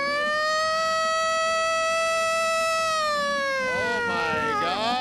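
A man imitates a siren with his voice during a Las Vegas New Year's Eve live news broadcast, holding a loud, steady wail before letting the pitch slide down and break up at the end.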